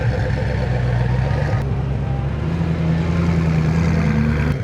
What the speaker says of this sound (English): 3 Carrera GTs just rolling through